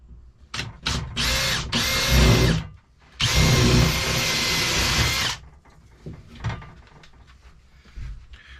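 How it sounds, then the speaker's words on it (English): A power drill whirs loudly drilling holes in a ceiling for smoke alarm cables, in several bursts, two short ones then two long sustained runs, followed by quieter knocking and handling noises. "let's drill the holes for where we're going to wire the cables"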